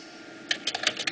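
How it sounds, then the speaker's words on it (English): Keys on a computer keyboard clatter in a quick irregular burst of close, crisp clicks, starting after a moment of quiet room hum. "typing out The Walking Dead down here, Season 1"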